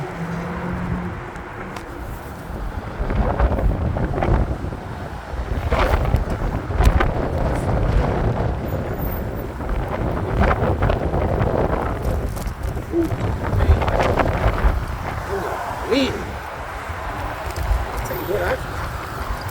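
Strong wind buffets the microphone while riding a scooter in a steady rushing roar, with a voice speaking under the gusts.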